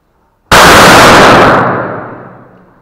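One very loud, sharp 20-gauge shotgun blast firing a slug from a Boito A 680 bursts out abruptly at a shooting range, followed by a fading roar of echo.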